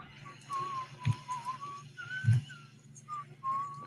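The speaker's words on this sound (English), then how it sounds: "whistling the theme there" Someone whistles a melody in clear, wavering notes, fairly close, with a couple of soft thumps in the background.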